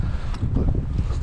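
Wind blows through a winter forest at a bushcraft campsite, heard as a steady, close, low rumbling roar with gusty swells and no voices.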